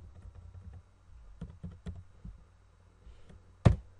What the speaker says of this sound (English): let's say I'll type in